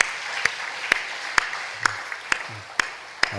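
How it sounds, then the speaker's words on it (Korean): A church congregation applauds after a choir hymn, a steady wash of clapping with sharp, evenly spaced accents cutting through at a regular beat. "박수를 하나님께 영광 돌리고 격려하겠습니다"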